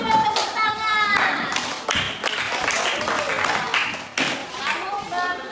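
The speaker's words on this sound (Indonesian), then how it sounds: "Kasih dulu tepuk tangan." Schoolchildren in a grade 7 science class clap their hands together in a short burst of applause, close and fairly loud, with a voice and classroom chatter mixed in.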